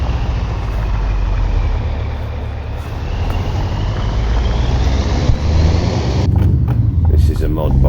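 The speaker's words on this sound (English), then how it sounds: "Obviously we're in an old Scania 6 Series Euro 6" Scania R Series R580 truck engine in Euro Truck Simulator 2, a loud steady diesel drone and rumble that builds slightly, continuous throughout, with a voice talking over it.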